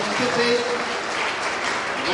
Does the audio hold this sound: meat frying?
no